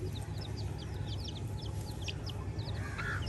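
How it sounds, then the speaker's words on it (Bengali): Young village chicks cluck and peep close by while fresh river fish such as taki and shrimp are being cleaned at a rural Bengali home, short chirps scattered over a steady outdoor background, no talking. "এই যে মুরগি বাচ্চাগুলো মাছ খাওয়ার জন্য কাছে এসে দাঁড়া রয়েছে।"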